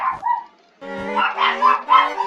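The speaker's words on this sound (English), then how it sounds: "So my dogs are barking." Dogs bark close by: a couple of short yips, a brief pause, then a run of louder, overlapping barks and whines with no talking.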